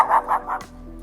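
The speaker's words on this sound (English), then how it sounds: "There's my dog barking sound." A dog barking sound effect: three quick barks in a row, loud and close, followed by a brief knock and faint background hum.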